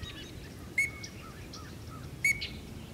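Duck whistle imitating the call of a male teal, two short high peeping whistles about a second and a half apart, faint over a quiet background hiss.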